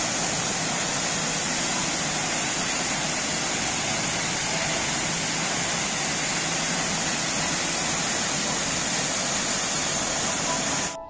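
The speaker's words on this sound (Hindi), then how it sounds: "आपको रास्ते के अंदर एक वाटरफॉल पड़ता है बहुत ही प्यारा, जैसे कि आपको हम स्क्रीन पर दिखा रहे हैं" Rehla waterfall in the Sainj Valley, about 3 km from Sainj, roars as a steady, dense rush of falling water, loud and unbroken throughout with no voices.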